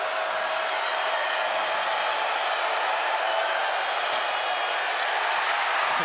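Basketball arena crowd at an NCAA men's college game between Albany and Kentucky, a steady broad roar and murmur of spectators reacting after a missed free throw, loud and continuous throughout.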